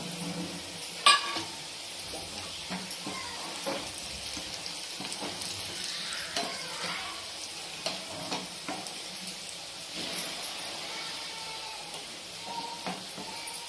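Two halved red chillies dropped into hot oil with crisp-fried garlic, crackling and sizzling steadily with scattered pops and light stirring clicks, close and fairly quiet.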